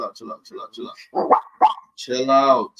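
A dog barks in a quick run of short, close yips, then lets out a longer, louder bark-howl at the end, with people talking around it.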